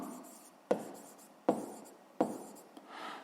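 A pen or pencil writes out an answer during a sixth-grade maths exercise, three quick firm strokes or taps spaced under a second apart, each followed by softer scratching, close and alone.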